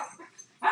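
A dog barks indoors, a brief faint whimpering yip followed by one sharper, louder bark at the very end, short and close.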